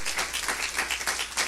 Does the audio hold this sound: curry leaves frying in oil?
no